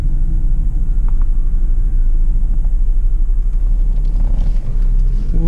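A stock supercharged 1998 Buick Park Avenue Ultra turns around between acceleration runs, giving a steady low engine rumble that holds close and constant throughout, with no talk over it.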